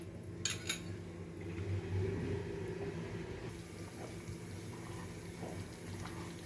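Cornflour slurry poured into a pot of simmering hot and sour chicken soup: a soft, steady liquid pour and gentle bubbling, with a few light utensil clinks, fairly quiet and close.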